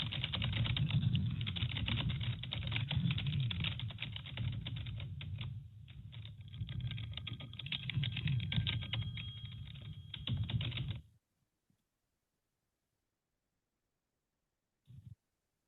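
Steady rapid typing on a computer keyboard, close and continuous for about eleven seconds, then silence with one brief click near the end.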